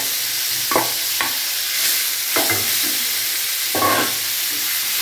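Green peas fry in a pan with a soft, steady sizzle, broken by several short scraping stirs of a spatula spaced across the span.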